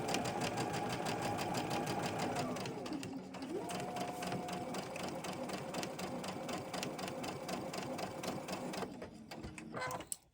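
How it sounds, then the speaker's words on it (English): A sewing machine chain stitches fabric pieces for a table runner with a continuous close mechanical whir and rapid needle clatter that shifts pitch briefly midway, then cuts off at the end. "we're going to chain stitch this one also, same way"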